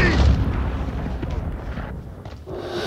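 A loud, booming RPG blast in Call of Duty: Modern Warfare multiplayer, a heavy low rumble that fills the scene and slowly decays over a few seconds amid game noise.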